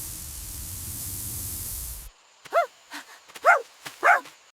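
A dog barks about four times in short, sharp bursts after a steady hiss of noise cuts off, each bark close and clear in a quiet space.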